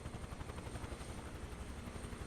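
A Huey helicopter in Microsoft Flight Simulator 2024 drones steadily with a dense rotor and engine roar, constant and close, during a windy oil-rig evacuation flight toward Galveston.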